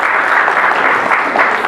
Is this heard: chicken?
no